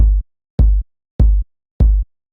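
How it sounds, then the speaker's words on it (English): Long kick drum sample with a deep sub tail, struck four times at an even slow pace, each hit a loud punchy thump that booms on briefly before cutting off, alone and with no other sounds. "is the kick, as it pretty much always is"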